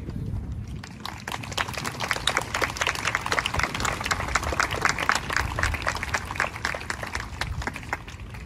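An audience at a Memorial Day event in Warren claps for a military veteran speaker: a sustained patter of many hands, moderately quiet and evenly spread across the room.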